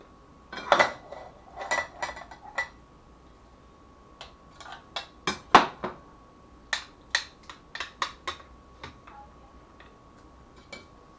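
A spoon or serving utensil scrapes and clinks against a baking dish while traditional lasagna is scooped out: scattered sharp metallic ticks and taps, close and fairly quiet, in an irregular rhythm with a pause midway.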